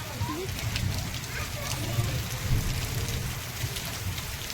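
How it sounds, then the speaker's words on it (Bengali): Heavy rain pours down in a village, a steady broadband hiss with low rumbling drumming on surfaces throughout, while a voice talks faintly under it. "দেখছো গাইস আরো জোরে বৃষ্টি হচ্ছে এখন"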